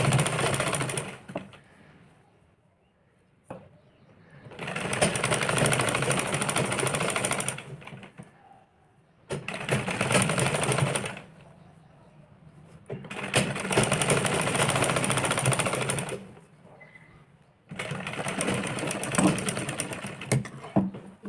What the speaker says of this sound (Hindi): इसमें हम यहाँ पे इसको यहाँ पे किनारे किनारे पे सिलाई लगा देंगे